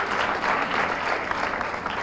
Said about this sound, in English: Give New Mexico a big round of applause again.